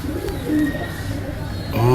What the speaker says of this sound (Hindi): कसूरी सलारे कबूतर जी